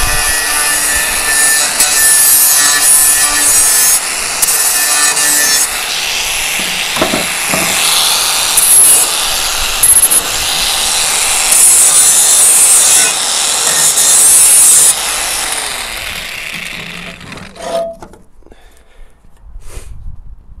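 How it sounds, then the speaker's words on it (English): A metal spade's cutting edge is sharpened with a file or grinder, producing a loud, close, continuous abrasive rasping that runs for about fifteen seconds, then stops, leaving a few faint knocks. "Just sharpen up the end of your spade, like so, nice sharp edge."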